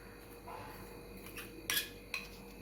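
A utensil stirs powdered sugar mixture for stovetop cookies in a bowl, giving quiet scraping with two sharp clinks near the end, close and faint.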